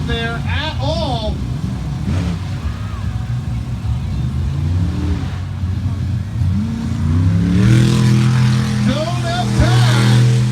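Monster truck engine revving hard during a freestyle show with a 14-year-old driver, the loud roar rising and falling beneath a steady announcer's commentary, surging strongest toward the end.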